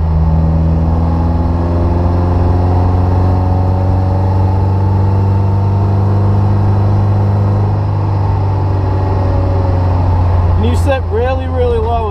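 A 1973 Jensen Healey British sports car with a Lotus 907 engine drives along, its steady mid-pitched engine drone loud and continuous, with a brief rising rev burst near the end.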